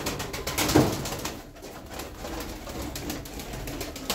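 Pigeons coo softly in a loft of Turkish flying birds freshly bathed, with low murmuring coos near the start fading into a steady, fairly quiet background.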